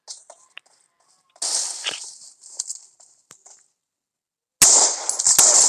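Winchester rifle shots in a video game, heard as a few sharp bursts with gaps between them, fairly close and loud, with no talk over them.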